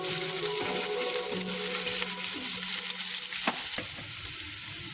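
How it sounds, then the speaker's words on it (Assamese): Onion, ginger, garlic and chillies sizzle and crackle in hot oil in a pan, steady and close, with occasional clinks and scraping of stirring. "গোটেইখিনি ভালদৰে অকণমান ভাজি ল'ম"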